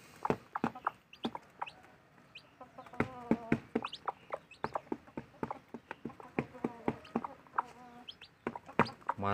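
Bangkok-breed chickens and their large chicks cluck and peep close by, a busy stream of short repeated calls with no one talking.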